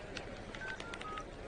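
A telephone being dialed, a quick series of short keypad tones in an uneven rhythm, faint against a steady background hiss.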